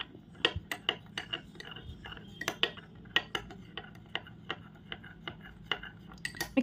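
Water and gum mixed for slime in a bowl, a utensil tapping and scraping the bowl in quick, irregular clinks, close and fairly quiet with no talking.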